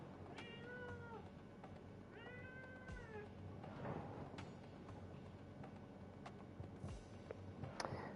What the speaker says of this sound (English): What are you meowing about?